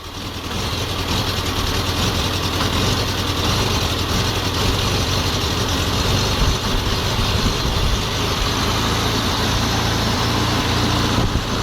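A Škoda 100 carburetor engine idles steadily and loudly, misfiring, its low rumble uneven and sputtering throughout with no voices.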